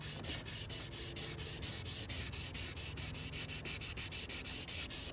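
Hand rubbing across a scraped car bumper makes a steady, close, rhythmic scrubbing with regular back-and-forth strokes and no voices.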